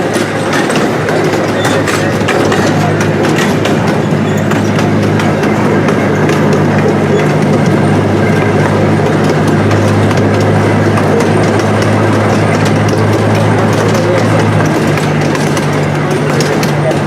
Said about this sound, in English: See a little mini train.